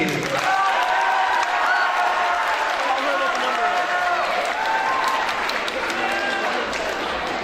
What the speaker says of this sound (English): Let me give a nice round of applause for Sawyer Partney.